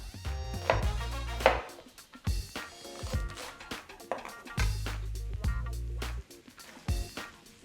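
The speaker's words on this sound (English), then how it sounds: "Right, with your onion, it's literally just roughly chop this up." An onion being roughly chopped on a board with a knife: a run of crisp, close chops in uneven bursts separated by short pauses, with no talking.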